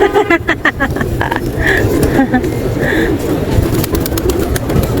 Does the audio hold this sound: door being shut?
no